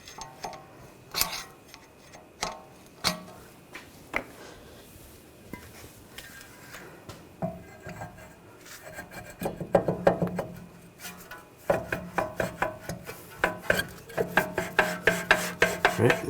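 A parking brake shoe adjuster on a 2007-2013 BMW X5 being turned by hand, a series of sharp metallic clicks and ticks, sparse at first then coming in quick rhythmic bursts toward the end.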